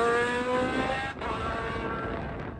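Loud, sustained high-revving roar from a naturally aspirated 2.7-liter, 32-valve V8 race engine built from two bored-out motorcycle engines and spinning to 10,500 RPM, competing in the 2023 Pikes Peak hill climb; the sound holds steady with a brief dip midway.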